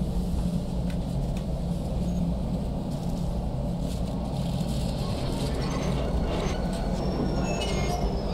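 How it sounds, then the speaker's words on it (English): Tunnel shuttle train moving in a dark video game, a continuous rumbling low roar with faint squealing and mechanical rattles throughout, steady and fairly loud. "It's like a tunnel train."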